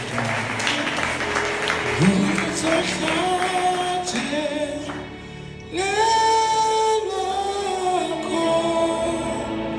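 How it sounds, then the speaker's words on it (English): A church congregation claps their hands together after a call to praise, a dense wash of clapping with voices and cheering mixed in, swelling louder in the second half. "Let's clap hands for ourselves."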